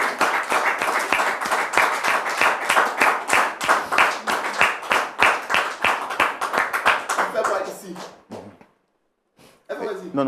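An audience claps in regular rhythmic unison, loud and close, for about eight seconds before the clapping fades out, leaving a short silence and then someone speaking.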